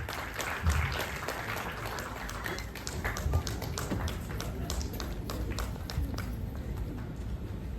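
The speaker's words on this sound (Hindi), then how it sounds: "जब तक आप मंच पर ना आए तब तक तालियां बजती रहनी चाहिए" An audience at the Nalanda Literature Festival in Bihar applauds a guest coming to the stage, crisp individual claps and taps rising and falling over several seconds over a busy room, with voices mixed in.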